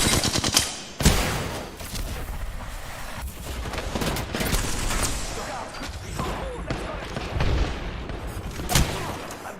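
Rapid gunfire bursts in a shooter video game, loud and close, with several sharp volleys and sustained automatic fire as a player talks over the action.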